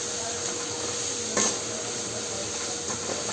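Onions fry with turmeric in a pan for boiled egg fry, giving a steady low sizzle with a brief scrape of stirring and a faint clink of utensils.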